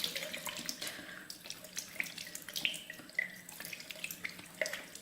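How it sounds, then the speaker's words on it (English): Water runs from a bathroom tap as someone rinses their face, a steady close splashing stream with small irregular drips and splatters throughout. "After toner, I rinse."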